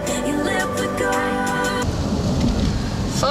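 Steady rain on the Sunshine Coast with rumbling thunder, loud and close. Music plays over the first half, then the downpour continues alone.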